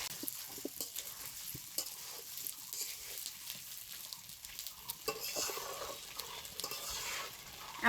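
Diced potatoes stir-fried in a pan with cumin paste and ginger paste, giving a steady close sizzle broken by irregular scraping and stirring clatters, with no talking.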